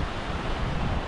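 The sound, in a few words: wind at the seashore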